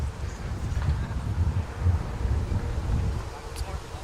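Steady gusty wind buffets the microphone outdoors at a 17U baseball game, a low continuous rumble with rustling that runs throughout at a fairly loud level.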